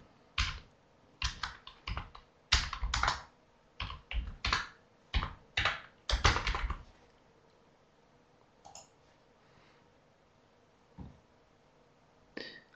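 Bursts of typing on a computer keyboard, clattering key clicks in quick clusters for about six seconds, then a few isolated taps in a quiet room.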